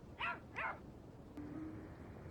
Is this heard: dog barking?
yes